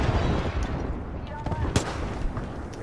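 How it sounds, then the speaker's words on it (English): Airstrike artillery explosions in the video game Apex Legends rumble on continuously, dense low booms layered with gunfire cracks, loud and sustained throughout. "Heads up. We've got an airstrike coming in."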